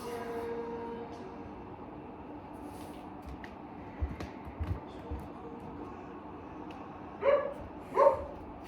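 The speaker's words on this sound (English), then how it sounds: "Told you there'd be a dog." A dog barks a few times in the distance, two short bursts late on standing out over a quiet outdoor background with faint scattered noises.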